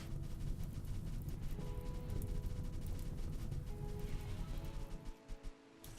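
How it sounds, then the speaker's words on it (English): Steady rain in the video game RimWorld patters continuously on surfaces, a dense hiss with faint tones layered over it, easing off near the end. "Ooh, it's raining."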